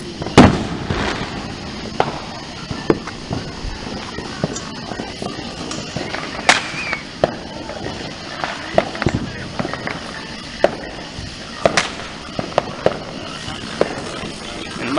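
Fireworks and firecrackers going off outdoors, a loud string of sharp bangs and pops at uneven intervals over crackling, with people talking and calling out in the background.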